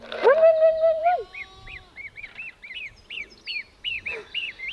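A farm goose gives a loud, drawn-out honk up close, then a run of quick, higher honks and squawks from birds on a rainy day, fairly near and alone without talk.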